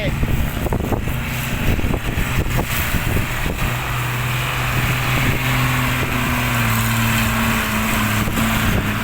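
A heavy engine drones and revs up close while strong wind buffets the microphone.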